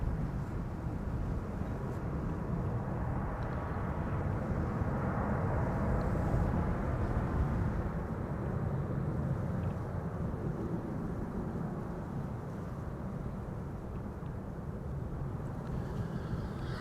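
A Transavia Airbus A321neo airliner arriving at Amsterdam Schiphol Airport, a steady broadband engine roar held throughout at a fairly even level, with some wind rumble, no voices.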